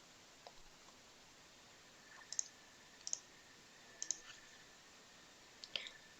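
Four or five soft, crisp keyboard clicks spaced about a second apart, quiet and close, over faint background hiss with no talking.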